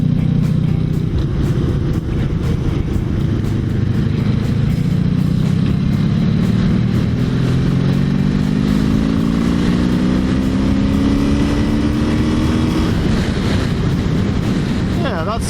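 A Honda V65 Magna motorcycle with a Mac exhaust runs on the road, a deep, steady engine rumble rising in pitch as it accelerates, with strong wind noise and a voice talking over it.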